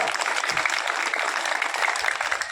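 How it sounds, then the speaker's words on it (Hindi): Sustained crowd applause at a BJP election campaign rally for candidate Devendra Jhajharia in Ratangarh, a dense, steady wash of clapping from many hands that stays loud and even throughout. "जोर से बजाओ देवेंद्र के नाम पर तालियां।"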